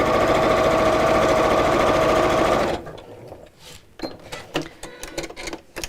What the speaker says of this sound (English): I'm just going to sew within the seam allowance again